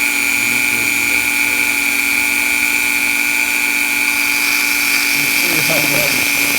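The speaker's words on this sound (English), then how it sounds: "I wish the Dremel had a lot more torque and would go a lot slower" A Dremel rotary tool grinds a right-side spring cap for a Quorn tool grinder base, giving a steady high-pitched whine that runs continuously and fairly loud throughout.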